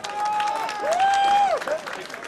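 Audience applause at a German festival stage programme, a broad, steady patter of many hands clapping with a high whistle-like tone running through the middle, fading toward the end.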